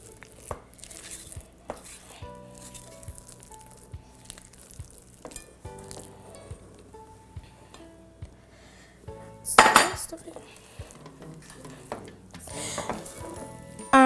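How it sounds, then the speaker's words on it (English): Sweet potato dough for vegan donuts being mixed by hand in a bowl, with repeated close clinks and scrapes of a utensil against the bowl and a louder burst of knocking partway through. "I'm mixing it until all of the flour, until I can't really see the flour anymore."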